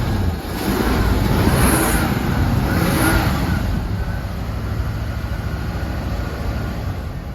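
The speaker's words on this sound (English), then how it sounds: "Go ahead and fire it up." A 1973 Ford F350 truck engine starts and runs steadily at a rumbling idle with a slight rev early on, loud and close throughout.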